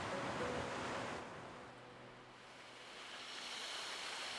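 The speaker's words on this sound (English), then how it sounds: "The Anno games seem to provide such amazing quality when it comes to waterfalls." A steady rushing waterfall in the video game Anno 117, a broad, even wash of falling water that swells and eases slightly, alone with no voices.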